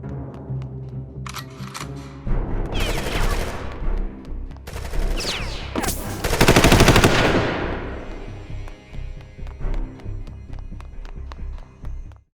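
Bursts of machine-gun fire and single gunshots ring out within DARKSIDE adaptive game music, loud volleys recurring through the piece over a steady musical bed, heaviest near the middle.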